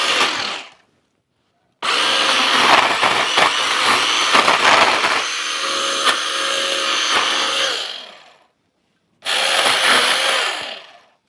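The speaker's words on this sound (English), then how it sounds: "And then come back with the chainsaw." A chainsaw cuts through tree limbs outdoors, roaring loudly in two long bursts separated by brief pauses with no talking.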